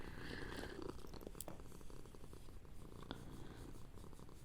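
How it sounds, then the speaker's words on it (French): A kitten purrs close to the microphone, a steady low rumbling vibration that continues throughout with soft rustling over it. "Écoutez ce ronronnement."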